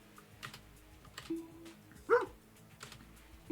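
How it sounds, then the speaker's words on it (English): Dog barking in a shooter video game, a single short bark mid-clip over faint keyboard clicks and soft game background noise. "Yeah, that is an in-game dog."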